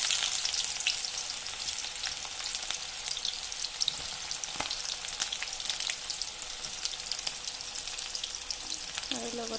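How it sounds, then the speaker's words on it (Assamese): Onions frying in hot oil with bay leaves in a home kitchen, giving a steady, close crackling sizzle that runs throughout with occasional small pops and stirring. "এতিয়া মই ইয়াতে পিঁয়াজ দিম।"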